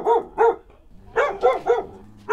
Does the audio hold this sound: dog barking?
yes